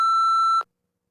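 A single clear electronic beep, steady and pure-toned, lasting about half a second before cutting off into silence.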